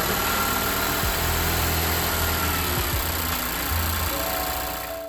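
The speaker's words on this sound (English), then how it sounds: "put the filler cap back on and let's turn on the vehicle." A Mazda CX-5 engine fires up and settles into a steady idle, a close, even hum with low vibration throughout and a brief rise near the start.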